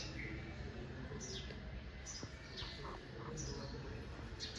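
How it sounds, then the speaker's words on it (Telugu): Small birds chirp outside near a tulsi plant, giving short, faint high calls scattered over a quiet background hiss. "ఒక్కసారి వినండి మీరు బర్డ్ సౌండ్"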